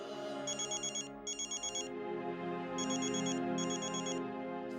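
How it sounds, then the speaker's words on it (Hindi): A phone ringtone rings in a Hindi TV drama scene, sounding as four bright repeating electronic bursts with short gaps between them over a low background tone, with no voices. "दी, बीजी का फोन आ रहा है।"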